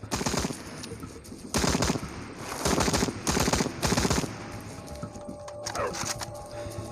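Shotgun blasts from the zombie video game Into the Dead boom out in a loud series of heavy shots with short gaps between them, then settle into a quieter game ambience.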